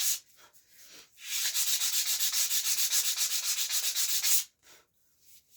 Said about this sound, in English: ugh, fingernails on a chalkboard watching me sand a sinew back